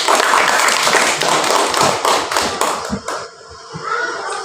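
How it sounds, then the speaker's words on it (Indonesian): Dense, sustained clapping from a classroom of children, many hands at once, steady then thinning slightly toward the end. "Tepuk tangan untuk kalian."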